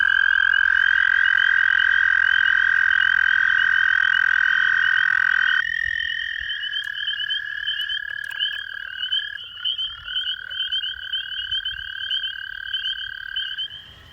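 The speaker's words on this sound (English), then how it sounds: "So we're driving down the road because we know that the toads are singing now" Toads at a local wetland trilling in long, steady, loud high-pitched chorus, several voices overlapping continuously, with one dropping out partway and faint background rumble; no talking.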